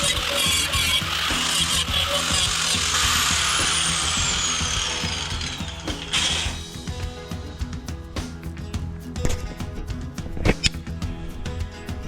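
A power drill bores a hole in metal for a Jeep Cherokee tow hitch, whining steadily for several seconds before stopping, followed by scattered clanks and handling noises nearby.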